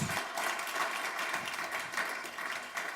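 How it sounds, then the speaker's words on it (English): Applause from a live audience at an innovation demo day event, a dense, steady wash of many hands clapping at moderate distance, sustained throughout without a break. "Do you want an applause?"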